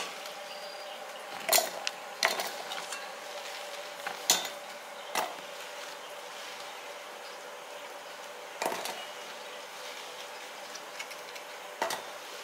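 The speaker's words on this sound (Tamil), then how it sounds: "இதை வந்து மிக்ஸி ஜாரில் இந்த மாதிரி 2 2ஆக உடைச்சி போட்டுருங்க." Pieces of a cooled sweet mixture for a two-ingredient Tamil laddu snapped by hand and dropped into a mixer jar, giving sparse, quiet clicks and taps a few seconds apart against a faint room hum, with no talking.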